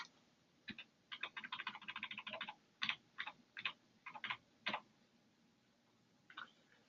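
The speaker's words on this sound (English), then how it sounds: "in this bottom box is where I'm going to enter my credit card information" Credit card details entered on a computer keyboard, heard as quiet, close clicks in quick runs and short bursts with gaps between them.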